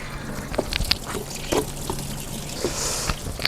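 Dirty brown coolant water draining from a car radiator, a steady close pouring and trickling splash that runs unbroken throughout, with no speech over it.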